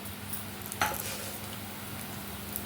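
Steady sizzling and crackling of mustard and cumin seeds frying in hot oil for tempering, with one sharp pop and a clink of a pan, no voices.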